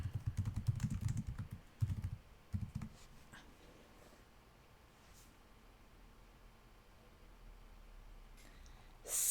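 Keys clatter on a computer keyboard in quick bursts through the first few seconds, then the sound thins to faint room hiss, with a sharper noise at the very end.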